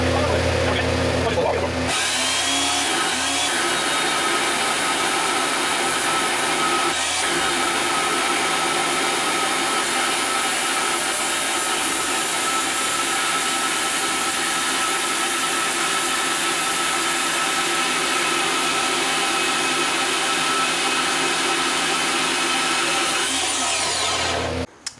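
Power tool grinding and cutting through thick steel for a rock bucket, a loud, continuous high-pitched whine that runs nearly unbroken for the whole stretch before cutting off at the end.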